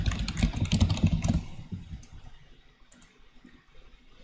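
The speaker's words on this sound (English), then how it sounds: "if you guys were wondering what me typing sounds like, that's what that sounds like" Close, rapid clatter of fingers typing on a computer keyboard: a dense burst of clicks for about a second and a half, then thinning to sparse, quieter keystrokes over faint room noise.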